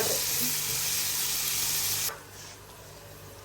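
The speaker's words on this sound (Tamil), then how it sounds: "டின் ஃபிஷ்ஷில் தண்ணீர் ஊற்றி வதங்குது" Water poured into a pan of canned fish frying in a home kitchen gives a loud broad hiss that cuts off sharply after about two seconds, leaving a quieter simmer.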